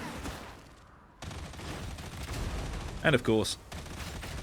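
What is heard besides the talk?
auto gun firing in the video game Warhammer 40K: Darktide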